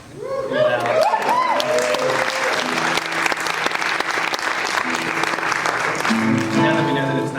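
A large concert crowd applauds a bluegrass band loudly and steadily throughout, with cheers and voices rising through the clapping.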